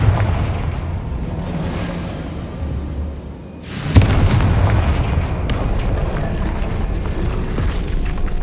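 A Confringo blast spell cast in the Hogwarts Legacy video game gives a sudden loud explosive burst near the middle, followed by sustained rumbling debris and crackle over a constant background of game ambience.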